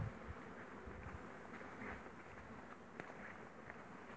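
Honeybees flying and buzzing at a hive in March, around ten degrees, a continuous dense hum with no clear breaks, moderately loud and close.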